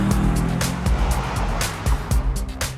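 Audi RS 4 Avant V8 revving hard toward its high redline: a loud, close, rough engine roar with rising pitch, broken by brief dips and surges like gear changes, with wind and road noise mixed in.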